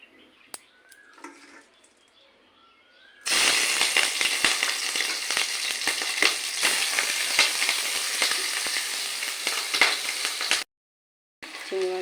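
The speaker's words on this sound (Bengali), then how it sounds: "তেল হয়ে গেছে, এবার আমি চিংড়ি মাছগুলোকে ভেজে নেব।" Prawns fry in hot oil in a wok, a loud, steady sizzle that bursts in suddenly after a quiet start and runs continuously before cutting off abruptly near the end.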